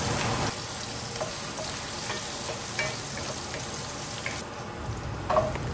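Chopped ginger and green chili frying in hot tempering oil with dried red chilies and five-spice, a steady close sizzle with occasional stirring clinks and a brief watery splash near the end.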